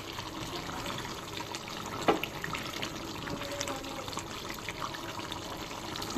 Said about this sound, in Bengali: ঝোল কমে গিয়েছিল, আমি আরও একটু পানি অ্যাড করলাম।